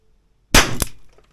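A single sharp crack of a Weihrauch HW4 air pistol shot, close and brief, followed by a short rattling tail.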